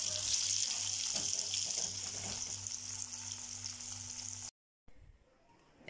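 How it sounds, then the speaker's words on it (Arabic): Mackerel fillets fry in hot oil with a bright, steady sizzle and faint hum underneath, cutting off abruptly before a quieter muffled tail. "هنحط بقى السمك كده ونحمره"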